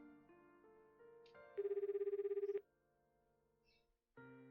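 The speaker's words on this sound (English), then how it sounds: "I press the call button and the phone begins to ring." Phone ringing in the visual novel 9-nine-: a soft synthesized tone sequence leads into one loud pulsing ring burst, followed by a quiet pause before the tones resume.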